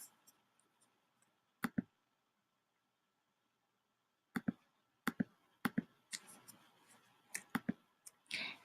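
Computer mouse right-clicking in a quiet room, sharp isolated clicks in small pairs and clusters with long silent gaps, close and crisp.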